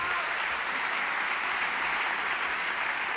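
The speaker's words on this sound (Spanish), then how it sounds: "desde aquí le mandamos un abrazo y un aplauso enorme y tremendo" Applause fills an awards gala hall for Aragonese music, a dense continuous wash of many hands clapping at even strength from start to finish, with no voices standing out.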